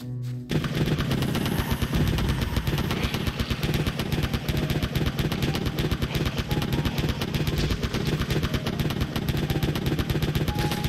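Rapid, sustained gunfire from a Christmas-themed shooter video game, with dense automatic bursts rattling continuously and loudly for several seconds after a brief quiet start, no talk over it.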